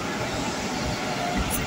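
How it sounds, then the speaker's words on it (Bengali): A metro train arriving at City Centre station, a continuous low rumble and rolling hiss of the carriages, with a brief high whine near the end. "সিটি সেন্টার থেকে এই যে আমাদের ট্রেন চলে এসছে"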